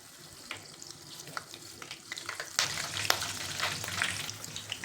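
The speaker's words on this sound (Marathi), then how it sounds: "आता मिरची तळायची." Slit green chillies deep-fry in hot oil for bhaji, a soft bubbling that swells into a louder, crackling sizzle as they drop in. Scattered clinks and spoon scrapes sit on top, and no one speaks.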